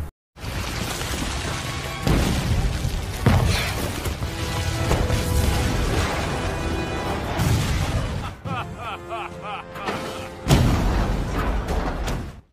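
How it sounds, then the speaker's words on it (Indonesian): Repeated booming crashes and blasts of cannon fire ring out over a dense, chaotic soundtrack, loud and close, with sharp impacts every few seconds. "Di tengah ledakan meriam"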